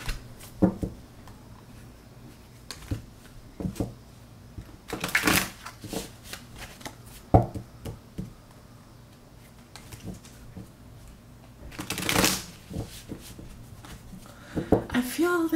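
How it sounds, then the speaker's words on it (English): Tarot cards are shuffled by hand in repeated bursts of crisp riffling and soft flicks, close and clear, separated by quiet gaps with a voice speaking in between. "I'm just getting the need to shuffle a little bit more."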